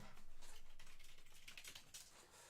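Rapid, soft computer keyboard typing, a continuous patter of quiet keystrokes with no one speaking.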